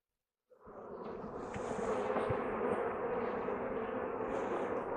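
Honey bees swarm and drone inside an opened hive full of capped brood and nectar, a dense, steady close-up buzz that starts abruptly after a brief silence and holds loud throughout.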